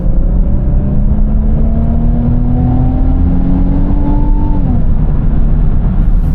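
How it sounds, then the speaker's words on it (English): A 2025 Infiniti QX80 twin-turbo V6 accelerating onto a freeway, heard from inside the cabin as a loud steady drone that rises smoothly in pitch, with road rumble underneath. "Pretty good sound from that twin turbo V6"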